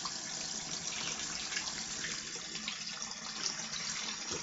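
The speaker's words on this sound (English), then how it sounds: "warming up the water a bit" A tap runs steadily into a sink as the water warms up for a shave, a constant moderate gushing stream with no one talking.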